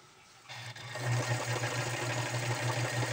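Sewing machine stitching knit fabric for a sweater, starting up after a quiet moment and then running at a steady, continuous hum close by.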